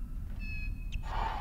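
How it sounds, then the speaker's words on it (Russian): A kitten meows once in the Harry Potter and the Philosopher's Stone PS1 game, a short thin high cry over a steady low game background hum, followed by a brighter rising tone. "Я опять, кажется, я слышу котенка."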